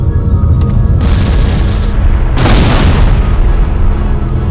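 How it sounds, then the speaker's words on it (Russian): A bazooka round exploding in the video game Resident Evil Survivor 2 CODE: Veronica, a loud, booming blast with a sharp burst partway through over a continuous heavy rumble, close and dominant. "если его с базуки сейчас долбануть, короче? Умрет он?"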